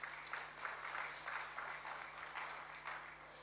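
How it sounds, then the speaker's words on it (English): Audience applause at a statistics survey launch event, a soft, steady patter of many hands under a low electrical hum, fairly faint and distant throughout. "A round of applause for..."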